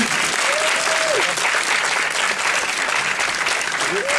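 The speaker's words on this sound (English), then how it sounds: "Give them a round of applause as they come down, please." Dense, continuous clapping from a large audience at a film screening Q&A, steady and loud throughout, with a voice faintly rising above it now and then.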